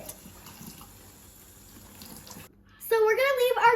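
Dried corn husks for tamales are rinsed under running water, a low steady wash of flowing water that drops out briefly before a voice starts talking over it.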